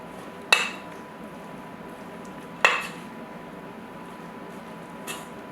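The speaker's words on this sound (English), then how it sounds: "So I'm just going to sort of give this a nice stir with the fork." A fork stirring a chess pie mixture in a bowl and breaking up softened butter, heard as two sharp clinks against the bowl a couple of seconds apart and a faint third tap, over a quiet room.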